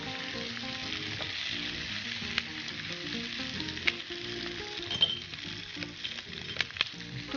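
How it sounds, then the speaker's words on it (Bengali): A colorful sweet and sour egg dish fried on high heat, a constant sizzling hiss with the occasional scrape and knock of a spatula stirring in the pan, steady and close. "নাড়তে হবে, না হলে আবার নিচে পুড়ে গেলে। এটা হাই হিটে করতে হবে।"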